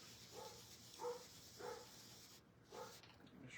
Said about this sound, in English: I should probably go look at what he's barking at.